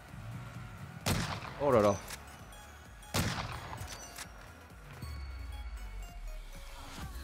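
Gunfire in Call of Duty Warzone: a few sharp bursts of shots hit at intervals, loud against quieter game ambience, with a person talking briefly.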